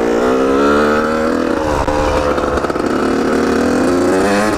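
A Honda CR125 two-stroke dirt bike rides close by, its engine buzzing loudly with a rising and falling pitch as the throttle changes, steady and unbroken throughout.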